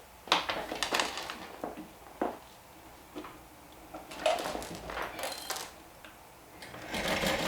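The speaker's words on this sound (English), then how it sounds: "So now you're going to top stitch around the edge, but only until that 1 inch mark" A sewing machine top stitches around a fabric edge, running in several short close bursts separated by pauses as the fabric is turned.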